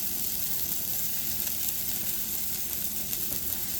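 Floured venison backstrap frying in a hot pan gives a steady, dense, close sizzle and hiss that carries on unbroken, with no talk.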